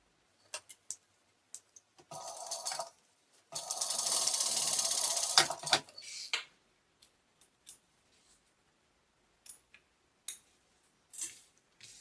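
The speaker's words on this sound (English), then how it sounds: "And then you just simply do your top stitch along the top." A sewing machine top-stitches along the top edge of a small fabric tote bag in two whirring bursts, the second longer and louder. Scattered clicks and handling taps come before and after, nearby in a quiet room.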